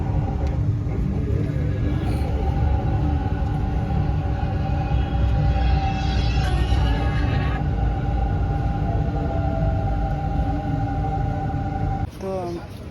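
A metro train ride in Korea: a steady, loud rolling rumble with a hum from the carriage, then a sudden drop near the end as the train slows.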